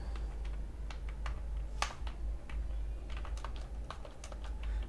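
Fingers type VBA macro code on a computer keyboard, producing a steady run of quick, light key clicks close up over a faint low hum, with no voices.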